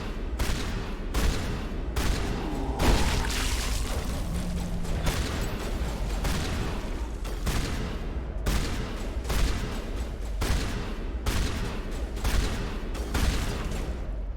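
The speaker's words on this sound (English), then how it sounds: "What are you guys shooting at?" Sustained, dense gunfire in the game Mass Effect Legendary Edition, with repeated bursts and loud weapon blasts running continuously at steady volume throughout.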